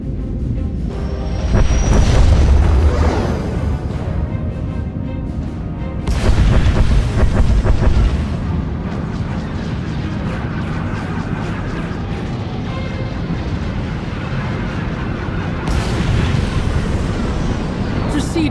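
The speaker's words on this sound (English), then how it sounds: "Proceeding with bombardment, targeting infrastructure and industrial objectives only." Heavy bombardment explosions in the SWTOR video game space battle, deep booming blasts swelling in repeated waves over a low rumbling background, loud and close, with a voice speaking between the bursts.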